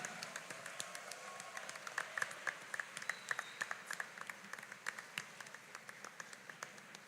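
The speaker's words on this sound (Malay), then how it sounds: "Berikan tepukan yang gemuruh untuk ayah dan ibu serta keluarga anda yang hadir pada hari ini" A large convocation audience applauds graduates' parents and families with a steady patter of clapping, fairly faint and distant, with individual sharp claps standing out through the whole span.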